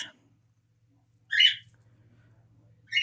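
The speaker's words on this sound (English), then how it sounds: "Oh, this bird." A pet bird gives two short, sharp squawking calls spaced well apart, with near silence between them and a faint low hum underneath.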